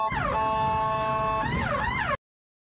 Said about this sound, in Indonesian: ini gambaran ketika ada ambulan yang berusaha untuk menjemput pasien